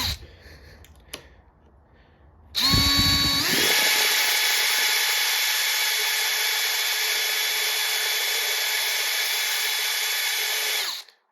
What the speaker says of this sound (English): So we're already making progress with the right-handed drill bit.